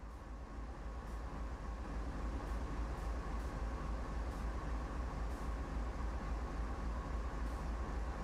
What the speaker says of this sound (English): We're now ready to move under the coal loader ahead, so get the train moving.